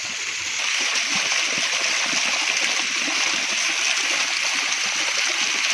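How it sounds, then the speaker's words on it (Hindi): A small roadside waterfall along Jammu Road in the Pona valley pours in a loud, constant hiss and splash of rushing water, close and steady throughout with no break. "इस तरह की छोटी छोटी आबशारें, छोटे छोटे झरने पानी के"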